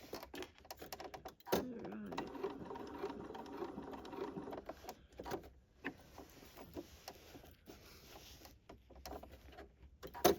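A sewing machine stitches through a large clutch bag at a long stitch length, a steady rapid mechanical patter close by, with a few brief pauses and knocks as the work is shifted.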